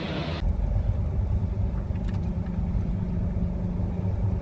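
A semi truck's diesel engine starts and settles into a steady, loud low-pitched idle rumble that runs throughout.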